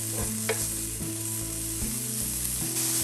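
Bacon being stirred into potato soup in a heating pan, a soft sizzle and scraping under a steady low hum, with a couple of brief clinks of the utensil.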